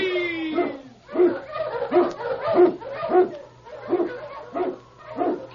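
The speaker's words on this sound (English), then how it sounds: "King, the swiftest, strongest of Eskimo lead dogs, blazes the trail through storm and snow for Sergeant Preston" Husky sled dogs yip and bark in a steady rhythmic series of close, loud calls, roughly one every half second, with a whining howl at the start.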